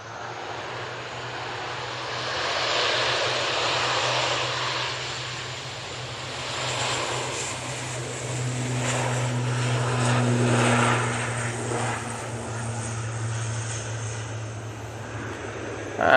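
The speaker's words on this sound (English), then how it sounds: "that ATR 72 is going back off to Guernsey" An ATR 72 turboprop airliner departs for Guernsey, its propeller engines droning steadily with a strong low hum and broad whooshing rush that swells and fades at a moderate distance.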